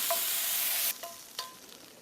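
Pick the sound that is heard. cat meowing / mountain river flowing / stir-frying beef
stir-frying beef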